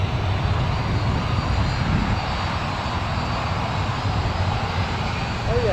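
A TUI airliner taxis at Newcastle Airport with a loud, steady engine roar and rumble, close by and continuous, while a person talks over it.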